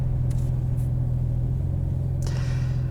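A 2021 Porsche 992 911 Carrera S with PDK gives a steady, droning engine note heard from inside the cabin, a constant low rumble with brief hiss from outside at moments, and no talking.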